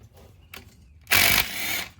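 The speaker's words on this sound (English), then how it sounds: "we're gonna take off the two that hold the caliper on, and those are 14s. So we're gonna do those with a gun" A pneumatic impact gun gives a loud, short burst as it breaks loose a 14 mm brake caliper bolt on a Ford Fusion front brake, following a fainter brief rattle.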